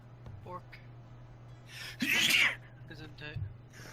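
A single sharp sneeze during a tabletop game session, loud and close, surrounded by soft murmurs and breaths, with a steady low hum underneath.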